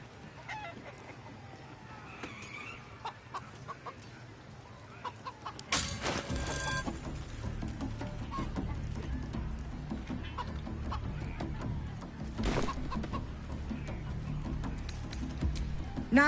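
Clucking chicken from the video game Baldur's Gate 3, a few clucks heard faintly over a low music bed, joined by louder broadband bursts partway through.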